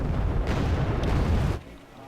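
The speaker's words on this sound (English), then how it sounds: "That's artillery being dropped down" Artillery fire in the video game Wargame AirLand Battle, a loud rumbling barrage of booms that holds for about a second and a half and then cuts off, with a voice faintly underneath.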